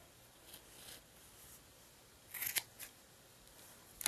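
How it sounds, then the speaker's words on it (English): Scissors snip through yarn while trimming a handmade pom pom, giving a few quiet, close cuts clustered near the middle and one more at the end. "just insert your scissors and pull up to the curved yarn and just turn it and cut it"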